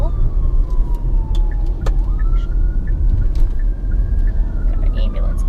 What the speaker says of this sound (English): Got an ambulance coming up, so I'm pulling over.